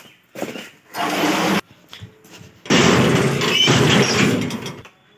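A door is pulled shut in a home, producing two loud bursts of scraping and rattling with a short quiet gap between them, and no voices.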